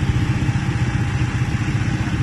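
A motorcycle engine idles close by, a loud steady rumbling putter with slight uneven pulsing throughout.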